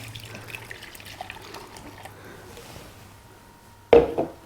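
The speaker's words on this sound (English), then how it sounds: "Just going to measure out 2 cups of water" Water is poured from a measuring cup into a small pan in a home kitchen, a short burst of splashing near the end after a quiet stretch with faint background hum.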